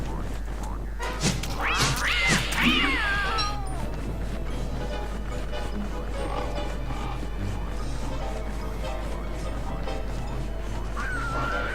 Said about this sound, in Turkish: Kediyi de alıyoruz tabii ki.